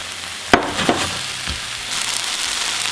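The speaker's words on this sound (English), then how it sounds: "Next, we're going to go in with our baby spinach. We're going to wilt this down." Baby spinach goes into a pan with onions, and a sharp clatter gives way to a loud crackling sauté that rises into a steady hiss as the leaves wilt.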